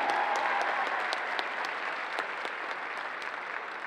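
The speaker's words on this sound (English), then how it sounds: "Let's give her a big round of applause." A crowd at the Planet Comicon 2018 cosplay competition applauds, a loud, even roar of many hands clapping at once that holds steady throughout.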